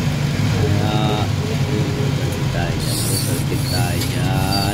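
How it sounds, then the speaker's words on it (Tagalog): A vehicle engine runs loudly and steadily while driving and overtaking on the road, a constant close drone with rising and falling whines over it. "Ayan, umiingay makina natin."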